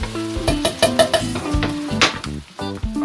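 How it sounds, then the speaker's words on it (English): Chili ingredients being stirred in a camping pot, close scraping and clanking of a spoon against metal over a light sizzle, in irregular strokes. "Get that stirred in all nice."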